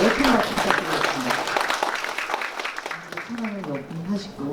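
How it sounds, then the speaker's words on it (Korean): An audience at an industrial development forum claps for a minister, with a dense patter of hands fading gradually while a voice speaks over it. "다시 한번 신인과 장관님께 큰 박수 부탁드리겠습니다"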